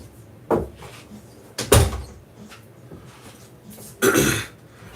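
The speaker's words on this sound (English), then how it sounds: "let me close this door." An indoor door being shut during a live leather-crafting stream, heard as a few separate knocks and thuds, the loudest near the middle and another near the end, with no talk.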